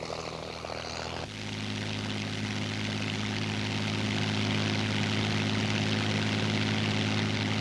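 A 1930s RAF Hawker Hind open-cockpit biplane drones in flight. Its piston engine and propeller make a loud, steady roar that swells slightly after a brief shift near the start, with no voices.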